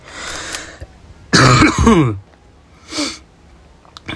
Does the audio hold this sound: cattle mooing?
no